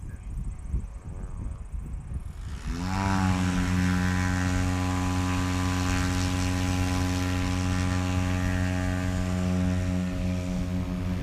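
A STOL propeller airplane at Music City STOL competition practice throttles up from a quieter start into a loud, steady, droning engine and propeller roar that holds at full power for several seconds.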